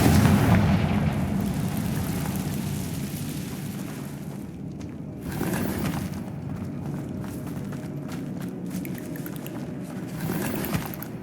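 A Confringo blasting spell cast in Hogwarts Legacy, heavy booming explosions with rumbling low end and sharp crackling bursts recurring across the stretch, loud and close with no speech.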